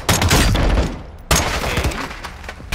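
Loud gunshot bursts in Modern Warfare 2 during room-clearing combat: a sharp volley opens, a second heavy shot cracks about a second later, then scattered rattling fire follows.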